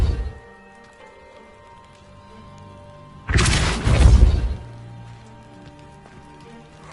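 In Hogwarts Legacy, a Depulso spell blasts a piled obstacle with a single loud, crashing burst lasting about a second, followed by rumbling debris over a quiet ambient background.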